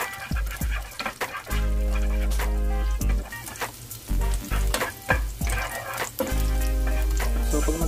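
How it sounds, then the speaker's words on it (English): Garlic frying in oil beside a fried rice made with crab fat, a loud, busy sizzle with frequent stirring scrapes and clatter, close by. "ilagay natin yung garlic habang malamig pa yung oil para hindi siya madaling masunog at maganda yung pagkaka-brown niya"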